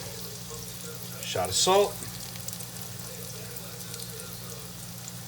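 Shallots and garlic sauté in hot olive oil in a pan with a soft continuous sizzle, while someone briefly speaks over it near the middle.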